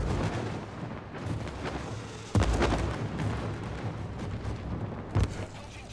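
Naval artillery fire in a ship-battle video game, with heavy booming shots rolling over a constant dense battle din, two strong blasts standing out, moderately loud.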